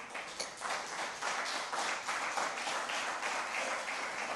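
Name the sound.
congregation applause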